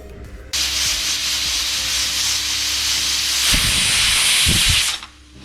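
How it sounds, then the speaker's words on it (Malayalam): A pressure cooker on a gas stove, cooking jackfruit seeds, vents steam in one loud, continuous hiss lasting about four seconds, then cuts off, with no voices over it. "നാലാമത്തെ വിസിൽ കേട്ട് കഴിഞ്ഞ് നമുക്ക് ഗ്യാസ് ഓഫ് ചെയ്യാം."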